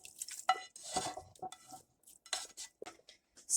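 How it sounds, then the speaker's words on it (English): Spaghetti sauce stirred in a pot, with close scraping and clinking strokes in short uneven bursts separated by brief pauses. No voices are heard. "Stir this up."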